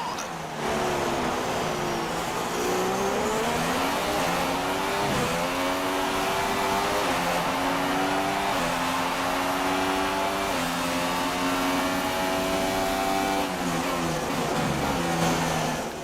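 Formula 1 race car engine in F1 2016 drones steadily at a close, loud level, its pitch sliding and shifting through gear changes as the car slows into the pit lane, with no talk over it.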